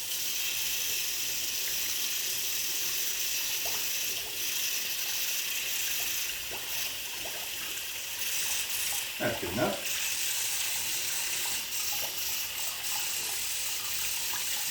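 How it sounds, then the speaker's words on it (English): Warm water runs steadily from a tap onto a paper towel, a continuous close splashing hiss that shifts slightly as the towel is moved. A voice speaks briefly over it. "Warm water works best, as warm as a person can tolerate."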